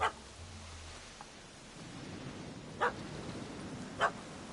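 A dog in The Witcher 3: Wild Hunt – Hearts of Stone barks at a cat in a tree, giving three short, faint barks spread apart over a low, steady ambient hum.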